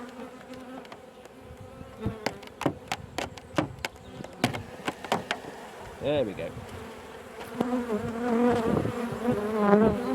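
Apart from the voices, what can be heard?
honey bees buzzing around hive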